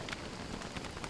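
Steady rain falls in Don't Starve Hamlet, a soft, even hiss of drops with faint pattering, heard alone and fairly quiet.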